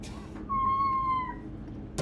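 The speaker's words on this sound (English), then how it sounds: "I'll just go with this meow." A single clear cat meow, tonal and drawn out for about a second, stands alone against a quiet background, with a soft thump at the end.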